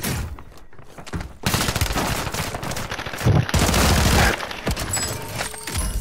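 Heavy automatic gunfire in Call of Duty Warzone on Rebirth Island, dense rapid bursts that start loud after a brief quieter stretch and continue almost without pause, with short gaps between volleys.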